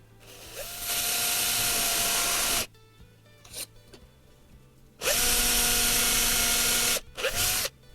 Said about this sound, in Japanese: これを使うと、だいたい板厚の中心ぐらいに下穴を開けることができます。